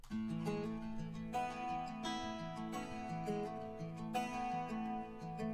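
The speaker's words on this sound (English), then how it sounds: "And that's layered with a helper guitar that sounds like this." A layered helper guitar with bright strummed chords, steady and rhythmic, played softly and alone with no voices.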